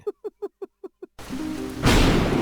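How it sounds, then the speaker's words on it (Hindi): After six rhythmic knocking thumps, a steady roar of heavy rain starts abruptly and then swells into a loud, broadband wash with a rumbling burst like close thunder. "देखते ही देखते तेज बारिश शुरू हो गई।"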